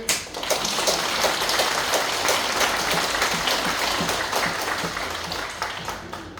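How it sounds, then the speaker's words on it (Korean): An audience at a church talk concert claps continuously for several seconds, a dense, even patter of many hands that fills the room without talk. "이 타이밍 박수가 아니긴 한데"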